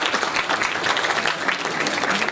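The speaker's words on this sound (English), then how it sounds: "Please give him a huge round of applause." Audience at a technology conference session applauds as a director walks onstage, a dense, steady wash of many hands clapping throughout, loud and even with no pauses.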